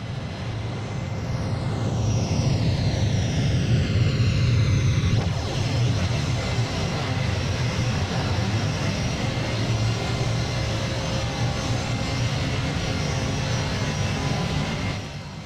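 Antonov An-124 turbofans spooling up on the runway against the brakes in Flight Simulator X, a loud steady jet roar with a rising whine that drops away partway through, then a sustained engine drone.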